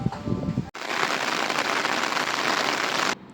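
Rain pours at a resort in Khopoli, a dense, loud, even hiss of drops on surfaces that begins abruptly after a short muffled noise and then cuts off near the end.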